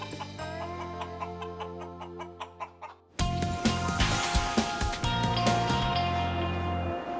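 A chicken found loose on Campbell Parade clucks in short repeated bursts, first sparse and clear, then joined by a louder, busier wash of sound with the clucks continuing underneath.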